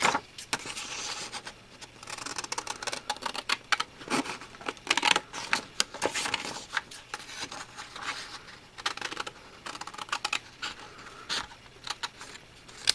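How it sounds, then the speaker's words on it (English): A good pair of crafting scissors snips through material in a series of crisp, close cutting strokes with irregular rhythm and short pauses, with no talking. "you can just hear the quality of a great pair of scissors"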